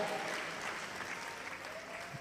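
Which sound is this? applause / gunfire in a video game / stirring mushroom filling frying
applause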